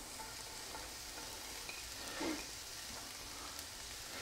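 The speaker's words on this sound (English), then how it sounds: "So I'm going to add my onions and my shallots first." Chopped onions and shallots fry gently over medium heat in a pan, giving a faint, steady sizzle with a brief soft scrape partway through.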